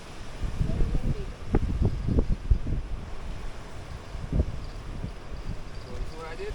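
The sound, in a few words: strong wind outdoors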